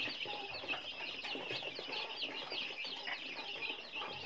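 Free-range crossbred fighting chickens cluck and chatter close by, repeated short calls with some wing flapping, fairly quiet.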